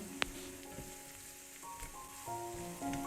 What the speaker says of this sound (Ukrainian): Додаємо нарізаний перець на сковорідку до цибулі